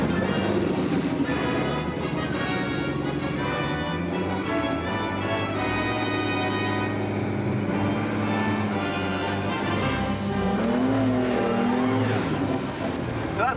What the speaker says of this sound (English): the car was built with about 200 brake horsepower at the wheels